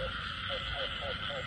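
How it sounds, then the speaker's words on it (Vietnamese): Field frogs croaking at night in a rice paddy area during a frog-hunting outing, a short repeated series of about four croaks over steady insect-like background noise. "Ếch đồng nha."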